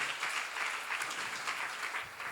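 A congregation at a church seminar applauds, with an even wash of many hands clapping at moderate distance and no break throughout.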